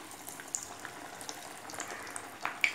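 Banana flower vadai hitting hot oil in a home kitchen, giving a soft, steady bubbling sizzle with faint crackles and a few small pops, quiet and uninterrupted throughout.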